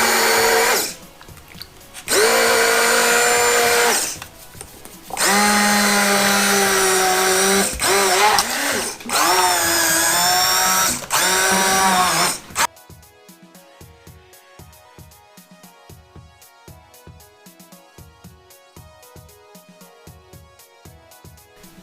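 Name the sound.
immersion blender blending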